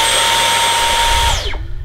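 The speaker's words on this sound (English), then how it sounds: "clearly when it comes to using the vacuum, it still uses the standard trigger design" Dyson Outsize Absolute cordless vacuum cleaner motor whirring loudly and steadily at close range, then spinning down with a falling whine as the trigger is released.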